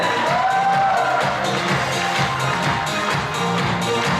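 A concert hall audience at a university gala concert finale breaks into loud, sustained applause and cheering, a thick wash of clapping filling the whole stretch.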